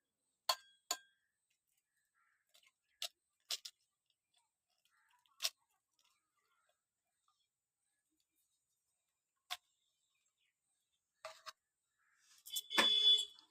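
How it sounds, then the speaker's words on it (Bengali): An egg is cracked for frying in a pan: a handful of sharp, separate clicks and taps spread across quiet moments, ending in a brief, louder rustling burst close by. "বন্ধুরা এদিকে আমি চলো ডিমটা ফাটিয়ে নিই।"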